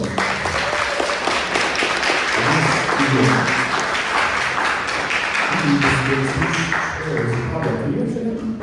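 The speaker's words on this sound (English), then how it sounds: "Give him a big round of applause" A stage audience applauds as co-founder Walter is called up, sustained clapping filling the room while a host keeps talking over it.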